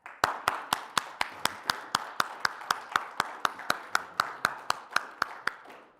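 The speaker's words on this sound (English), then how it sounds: "So friends, we can clap for that." Sharp, evenly spaced claps in a church during a Sunday service form a crisp, regular beat of about four per second, close by and steady from start to finish.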